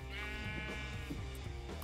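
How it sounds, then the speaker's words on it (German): Sheep in the Minecraft video game bleat in a steady, wavering cry that fills the short moment, loud and close with no talking over it. "Ihr geilen Schafe."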